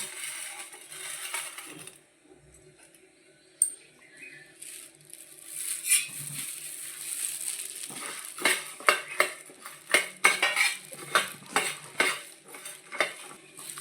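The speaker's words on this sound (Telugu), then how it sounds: "ఇక మన మసాలా ఇప్పుడు కొంచెం లైట్గా అది మనం వేపుకోవాలండి." Masala spices for a mutton pickle are roasted in a pan, with a spoon scraping and clinking against the metal in irregular stirring strokes over a faint sizzle, growing busier toward the end.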